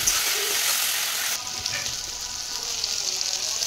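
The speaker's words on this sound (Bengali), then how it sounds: "একটু মিট মশলা দিয়ে দিলাম, লঙ্কা গুঁড়ো ভালো করে নেড়ে নিলাম।" Meat masala, turmeric and chili powder sizzle in hot oil for jackfruit curry while being stirred, a dense steady frying hiss that drops slightly in level partway through and carries on alone.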